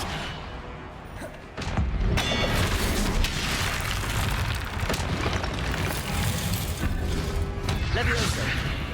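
A Confringo spell blast in Hogwarts Legacy lands with a loud, heavy boom and crashing mechanical clatter that sustains for several seconds, with a voice speaking over it.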